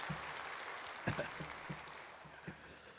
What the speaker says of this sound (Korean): 이제 이때 박수 쳐야 돼요